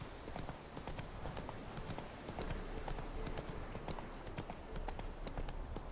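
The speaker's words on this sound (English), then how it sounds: "Come on, Roach, you can go faster than this." The horse Roach from the video game The Witcher 3 gallops, its hooves pounding out a quick, steady clip-clop rhythm at moderate volume with no talking over it.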